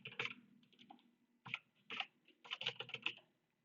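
Typing on a computer keyboard while writing Java code: bursts of fairly quiet, close-up key clicks arriving in irregular clusters with short pauses between them, and no voice over them.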